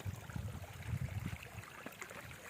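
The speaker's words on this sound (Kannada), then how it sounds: "ಇಲ್ಲಿ ಕಲ್ಲು ಮೇಲೆ ನೀರೆಲ್ಲ ಜುಳು ಜುಳು ಜುಳು ಅಂತ ಹರಿತಾ ಐತೆ" Water flows and gurgles softly over rocks, a faint, steady outdoor trickle with low rumbling.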